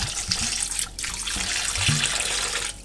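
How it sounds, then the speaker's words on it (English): Water runs steadily into a pot holding rendered beef fat in a kitchen, a continuous splashing pour with a few clunks of the pot and tap, easing near the end. "You add some water."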